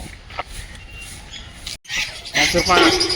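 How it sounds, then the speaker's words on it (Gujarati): Loud, harsh parrot squawks burst out in the second half at a zoo by Kankaria Lake, Ahmedabad, rising over a voice talking nearby, after a short silent gap. "આ તને બોલાવે, આ પોપટ બોલાવે."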